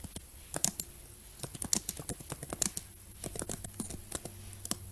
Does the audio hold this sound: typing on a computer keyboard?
yes